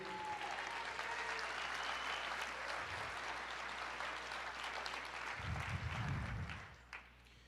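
A church congregation applauds steadily for several seconds during a sermon, a dense wash of clapping that fades out near the end.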